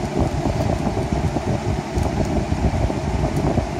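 Traxxas Rustler RC car with a faulty ESC and cooling fan making a steady whirring, buzzing noise up close, constant and fairly loud for a few seconds with no talking.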